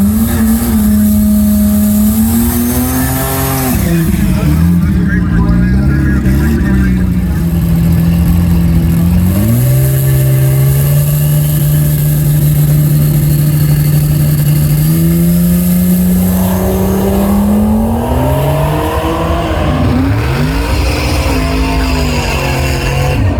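A turbocharged American inline-six race car accelerates hard down the strip with a little boost added, its loud, steady engine note climbing through several gear changes and staying close and dominant throughout.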